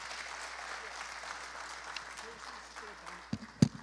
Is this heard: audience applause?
yes